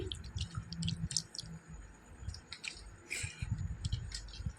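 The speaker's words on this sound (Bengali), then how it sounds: "এখন লঙ্কাটা ভাতের মধ্যে চটকে নিচ্ছি" Fingers squish and mash green chili into soaked, fermented panta bhat rice in a clay bowl, giving close, wet squelching and soft clicks in uneven bursts.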